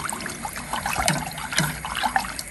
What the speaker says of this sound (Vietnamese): rồi mình sẽ thêm nước vào vô cái chai cho nó sạch cái chai